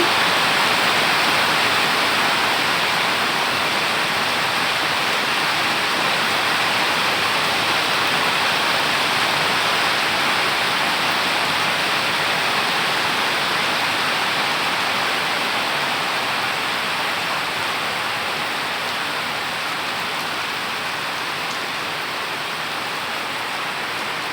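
Heavy rain falls in a steady roar while water streams along the road, a constant broadband hiss that holds level the whole time with no voices.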